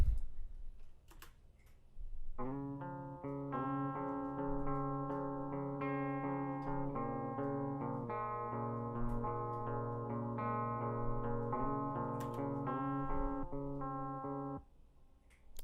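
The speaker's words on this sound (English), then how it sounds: "even after I pause, the delay keeps on going" A sustained, layered synth sample plays through a delay effect, echoing repeats ringing on after each note, fading out near the end.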